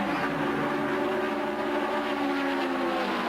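NASCAR stock cars at Daytona in 1981, the new shorter and narrower cars, roaring past in a dense, sustained engine drone with shifting harmonic whine, loud and unbroken with no talk over it.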